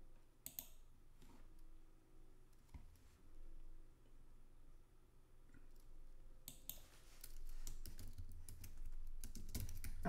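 Keys tapped on a computer keyboard while alt text is typed into an image upload form, a soft clicking run that comes in scattered bursts and grows denser toward the end, fairly close and alone with no voices.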